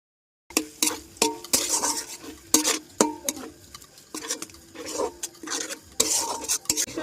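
Spoon stirring a paste of ground cashew, poppy seed and fennel with ginger, garlic and green chilli as it fries in oil in a pan, giving repeated close scraping strokes over a soft sizzle and no talk.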